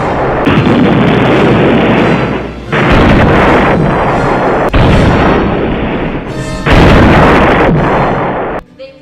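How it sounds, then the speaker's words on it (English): Loud, sustained explosive booms with rumbling blasts come in several long bursts, each cutting off abruptly before the next erupts. "A terrific explosion shakes the earth."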